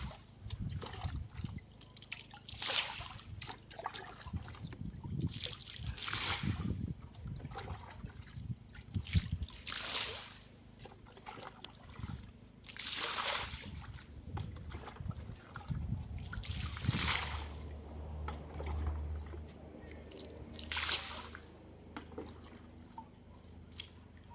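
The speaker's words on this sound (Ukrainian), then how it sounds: "Так що дивіться, вливаємо по всьому периметру." Pond treatment liquid being poured into pond water around the perimeter to fight blue-green algae, repeated bursts of splashing and trickling with gurgles between them, close and moderately loud.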